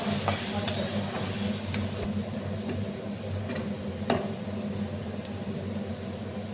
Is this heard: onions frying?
yes